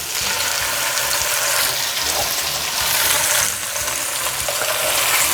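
Tuscan chicken with melting cheese and spinach sizzles and crackles steadily in a hot pan, a loud, continuous frying hiss with faint clinks, close by and with no talking.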